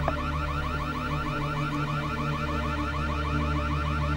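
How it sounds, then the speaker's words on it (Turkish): A fire alarm rings continuously in a rapid, repeating electronic warble with steady tone, filling a hotel room at moderate loudness without any voices. "Yangın alarmı çalıyor."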